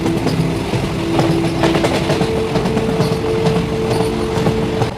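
A train on the Kasba to Dhaka route in Bangladesh rumbles steadily along the rails, a continuous loud clatter with a sustained mechanical drone running throughout.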